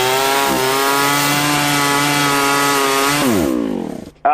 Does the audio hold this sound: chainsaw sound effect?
yes